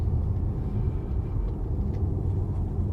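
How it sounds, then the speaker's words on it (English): A fire truck heading toward a big building fire in San Bernardino gives a steady low engine rumble that stays loud and constant, with no siren evident and no talk. "A fire truck coming at us."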